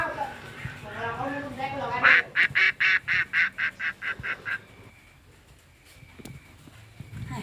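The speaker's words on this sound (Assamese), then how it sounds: "হাঁহকেইটা ইমান পেপেকা আছে আহকচোন চাওঁ" Ducks quacking loudly in a quick run of about ten close, rhythmic calls, with indistinct human voices murmuring just before, in an Assamese village comedy sketch.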